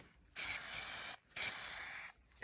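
Spray paint can spraying model terrain outdoors in two sustained hissing bursts separated by a short gap, with the start of a third at the end, close to the microphone.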